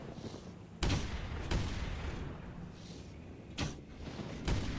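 Gunshots fired at a dinosaur in the hunting game theHunter: Primal: five sharp, loud reports at irregular intervals over a steady ambient background, with no talking.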